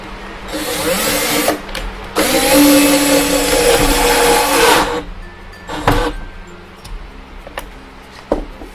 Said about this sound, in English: So we will need to drill that in here.